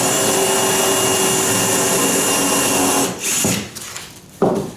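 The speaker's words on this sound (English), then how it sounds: "so now we're going to drill a hole here" A power drill whirs loudly and steadily while drilling a hole in wood, then slows and stops with a couple of brief bursts near the end.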